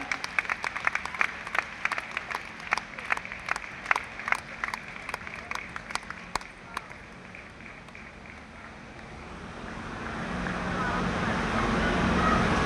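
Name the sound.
audience applause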